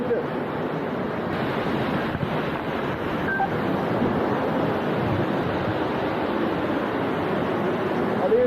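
Kalimna Falls waterfall near Lorne in the Otways, heard from underneath as a constant loud roaring rush of falling water, broad and unbroken, with no speech.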